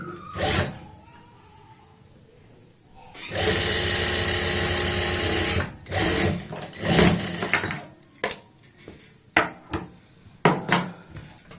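A sewing machine stitches a kameez lining seam in short bursts: one long run of several seconds, then a string of quick stop-start stitches, close and clear with no talk.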